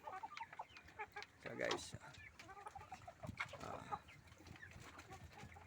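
Layer chickens cluck and chatter nearby in a busy, steady flock, with someone talking briefly over the birds.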